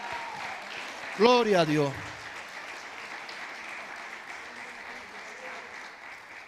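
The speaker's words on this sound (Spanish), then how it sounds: "Denle un aplauso al Señor, aleluya" A church congregation applauds in a steady wash of clapping that runs throughout, with a voice calling out briefly over it early on.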